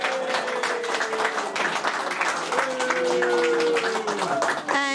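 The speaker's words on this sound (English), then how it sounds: "Let's give them a great big clap." An audience claps for the winning team at a multicultural interfaith cricket match, brisk crowd applause running throughout while voices talk and call out over it, rising into cheering near the end.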